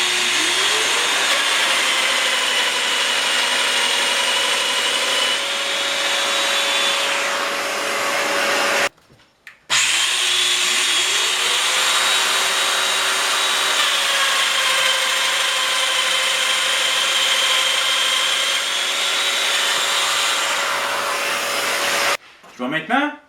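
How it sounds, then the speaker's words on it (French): Festool Domino joiner cutting mortises in wood for bed box frames, with a dust extractor running: a steady loud whirring motor drone with rising whine, broken by brief pauses near nine and twenty-two seconds. "système domino obligatoire, on utilise toujours l'aspirateur."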